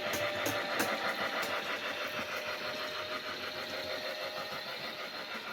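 A toy Polar Express train runs along its track with an odd fault noise, a steady close mechanical whir with faint repeating clicks from the wheels on the rails.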